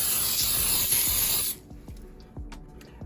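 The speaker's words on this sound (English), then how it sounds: "now I'm going to spray again with just a little more pan baking spray." Pan baking spray hisses out of a can into a cake pan in one steady burst of about a second and a half. The spray stops abruptly and leaves quieter knocks and kitchen handling sounds behind it.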